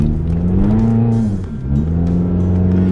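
A car engine revs and accelerates up close, its steady engine drone rising in pitch, easing briefly, then climbing again across the whole stretch.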